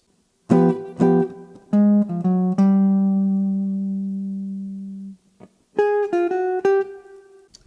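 A clean jazz guitar plays a short bebop run of plucked notes with a 3-note enclosure over the 5 chord, holds one long sustained note, then finishes with a quick flurry of notes.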